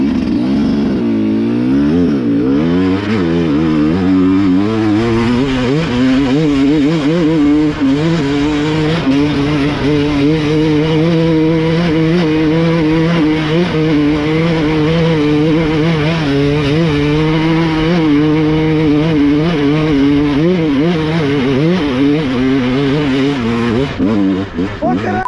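An enduro motorcycle climbs a steep hill, its engine note rising and falling as the bike bounces over the terrain, loud and continuous throughout.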